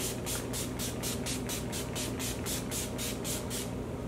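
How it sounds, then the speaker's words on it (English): Urban Decay All Nighter setting spray misted over a made-up face in a quick, steady series of about a dozen hissing spritzes, close and evenly spaced, over a constant low room hum. "now I'm just gonna go ahead and set all this face with my Urban Decay All Nighter setting spray"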